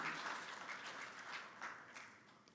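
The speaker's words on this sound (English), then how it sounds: "Give yourselves a round of applause for that." Convention audience applauding at a union convention keynote, a broad wash of clapping from a large crowd that starts full and slowly fades over a couple of seconds, heard at a distance.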